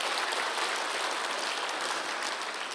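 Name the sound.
congregation applauding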